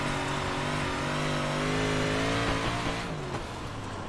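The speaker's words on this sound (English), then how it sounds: "I think the cars might be a little loud" Race car engines at the Weedsport racetrack roar steadily throughout, a loud continuous revving drone with shifting pitch as cars pass close by, with no talking.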